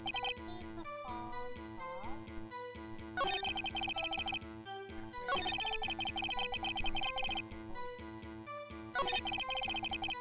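A phone rings repeatedly in the Ace Attorney game, a bright electronic jingle looping in bursts over game music with no talk.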